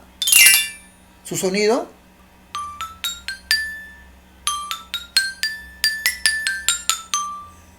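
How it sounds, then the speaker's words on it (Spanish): A xylophone is struck note by note, its bright wooden tones ringing and decaying in an irregular melodic run. Each note is close and clear. A brief spoken phrase and some handling noise come first. "Igual con el instrumento que tengo acá, que es un xilófono."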